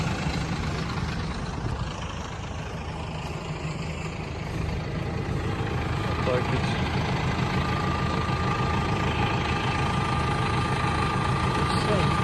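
A Lovol P4110 tractor engine runs at a steady idle, a continuous low rumble with a faint whine, close and fairly loud throughout; someone talks over it.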